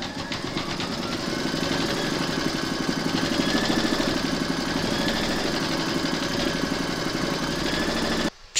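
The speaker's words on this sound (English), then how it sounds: "Pop your hoop into your machine and stitch round number 3 to secure them" An embroidery machine stitches down an appliqué flamingo in a hoop, making a steady, fast, rhythmic mechanical whirring and clattering that runs continuously for several seconds before stopping abruptly.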